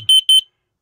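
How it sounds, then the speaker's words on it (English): Two loud, piercing electronic beeps in quick succession from a nearby TPI Model 780 carbon monoxide alarm, then silence. "It gave us our three beeps."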